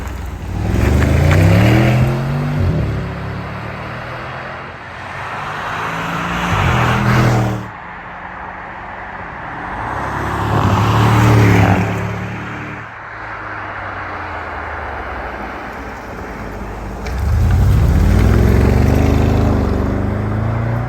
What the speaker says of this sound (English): we're going to do a couple of flybys, just so you guys can hear the exhaust outside